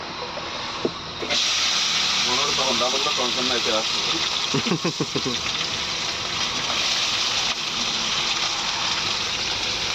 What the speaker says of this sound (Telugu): ఫస్ట్ అయితే మనం మిర్చి నూనెలో అయితే బాగా వేయించుకోవాలన్నమాట